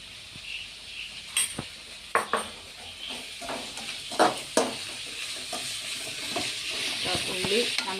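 Onions being sautéed with rock salt in a pan, giving a steady soft sizzle broken by several sharp scrapes and clinks of a spoon stirring against the metal, close and fairly quiet, with no voices.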